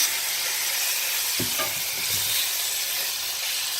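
Chicken drumsticks fry in vegetable or olive oil over a high flame, a loud, even sizzle with a few soft knocks of stirring near the middle, no voices.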